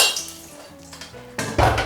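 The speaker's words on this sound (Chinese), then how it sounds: "好，烧热之后将油倒出来，" Hot oil being poured out of a heated wok, with a clank and lingering metallic ringing, then a short, loud rushing splash at the end.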